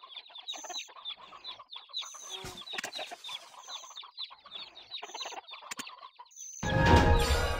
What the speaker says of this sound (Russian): Тебе не кажется, что эти куры худоваты?